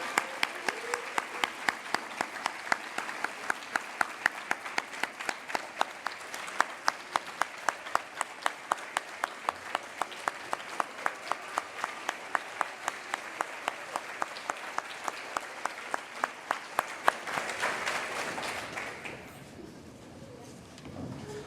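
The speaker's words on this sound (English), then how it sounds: "we can do better than that by giving our students a round of applause" At an awards ceremony, a crowd claps steadily in rhythmic unison for about seventeen seconds, then the clapping breaks into scattered applause that fades to room murmur.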